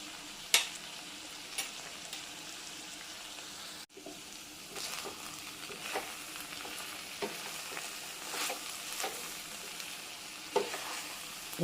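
Eggplant pieces sautéing in a pan with pepper powder, a low continuous sizzle with occasional soft stirring scrapes and one sharp knock, quiet and close.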